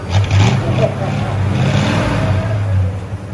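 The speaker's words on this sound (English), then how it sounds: "It's a Jaguar that has got a Chevy motor." A 1973 Jaguar XJ6 fitted with a Chevy engine idles and revs nearby at an auto auction, a low rumbling motor with voices talking over it.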